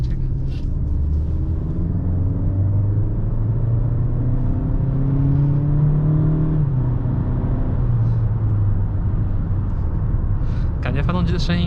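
Inside a 2021 Acura CDX A-Spec with a 1.5-litre turbo engine and 8-speed dual-clutch gearbox, a steady low engine rumble and road hum continue under people talking throughout the drive.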